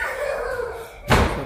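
Indoor door slam at a house during a birthday celebration, one sudden loud bang near the end after a stretch of background hum and faint tonal noise.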